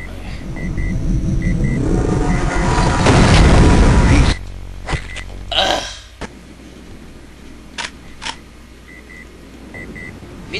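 The Devastator weapon firing in Duke Nukem 3D: a dense, loud run of rumbling blasts for about four seconds, then a few scattered booms and beeps over a quieter background.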